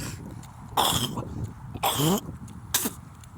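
Three separate harsh coughing and throat-clearing bursts, close and loud, with quiet pauses between them.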